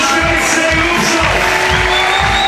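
Crowd at a European Championship bouldering semi-final in Innsbruck, Austria, a loud, continuous roar of cheering and clapping with whoops and shouts, close and dense throughout.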